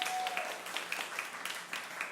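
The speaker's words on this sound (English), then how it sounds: "round of applause." Brief audience applause at a storytelling night in Bremerton, Washington, a modest scattering of hand claps from a small crowd, with a few sharper individual claps standing out over a couple of seconds.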